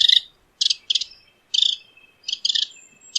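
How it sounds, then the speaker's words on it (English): Birds chirp in short, bright bursts of high, rapid notes, coming in clusters with brief gaps over a quiet, noise-free background. "There are still some birds in the background"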